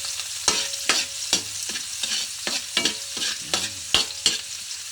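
Onions fry in a pan while a utensil stirs them, with loud sizzling and a steady series of close scraping, clattering strokes.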